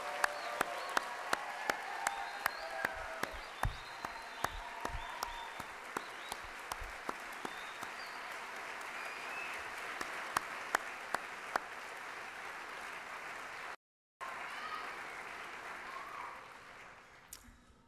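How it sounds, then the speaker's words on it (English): Sustained applause from a large audience at a 2015 graduate school commencement, a dense wash of clapping with sharp individual claps standing out, broken by a brief cut, then continuing and slowly fading. "How about another round of applause?"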